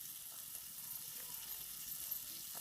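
Tomatoes sautéing in a pan for a traditional Maharashtrian mung dal recipe, a steady soft hiss and sizzle, close and even throughout, with no talk.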